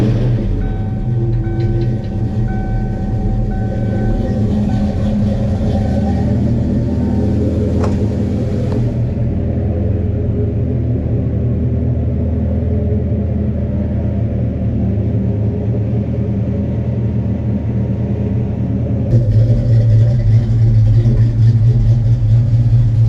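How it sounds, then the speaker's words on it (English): Ford Mustang Fox-body car idling with a steady low engine rumble that continues evenly, growing a little louder and fuller near the end. "I'm actually going to start the car up."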